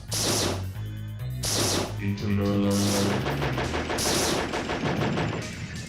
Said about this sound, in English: Is that shooting at me? Oh, no, that's shooting at me.